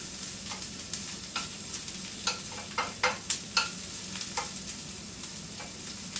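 Onions frying in a breakfast skillet with tomato, a soft steady sizzle under occasional sharper clicks and scrapes of stirring, close and moderately quiet.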